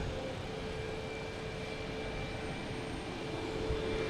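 JetBlue Airbus A320 jet at Boston Logan Airport, a constant broadband engine roar with a faint steady whine, unchanging in level and heard alone without talk.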